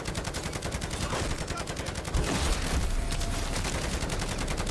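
An SMG fires at zombies in a video game, a steady stream of rapid automatic shots that runs through the whole stretch, with a louder, heavier thump partway through.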